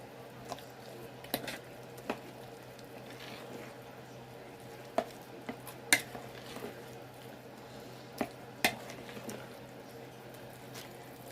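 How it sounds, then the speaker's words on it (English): Biscuit dough is worked with a spoon in a bowl, giving soft, sparse squishing presses and a few sharper spoon clicks against the bowl over a quiet kitchen background hum. "Sort of like kneading it with a spoon."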